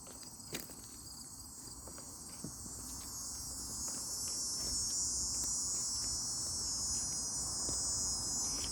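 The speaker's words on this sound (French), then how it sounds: "La cigale." A cicada buzzes in late August in the French countryside, a dense steady high drone that swells louder midway and holds, with a couple of faint taps early on.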